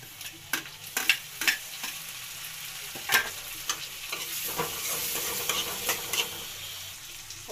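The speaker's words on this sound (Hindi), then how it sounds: "और प्याज को अब अच्छी तरह से भूजते हैं। अब हम इसमें डालते हैं टमाटर।" Onions and tomatoes fry in a pan under a soft sizzle, while a spatula scrapes and taps the metal again and again at an uneven pace. The scrapes are close and fairly quiet, with no voices.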